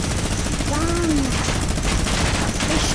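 Gunfire in Fortnite crackles in a dense, continuous barrage with layered shots and explosions, loud and unbroken, while a voice comes through under the noise.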